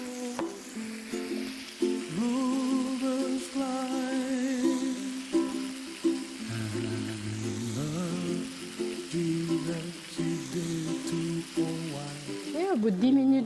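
Vanilla chicken sizzles gently in a pan on low heat, a soft, continuous frying crackle under a voice talking close by.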